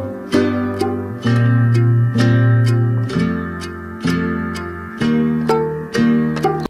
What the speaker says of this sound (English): He's actually sampling a song from a genre called dark ambient.